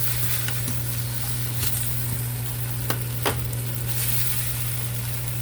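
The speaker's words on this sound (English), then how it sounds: "we just keep on searing for a little bit longer here" Oxtails sear in a hot pan with a steady, dense sizzle and a few faint clicks and scrapes, and no one speaks.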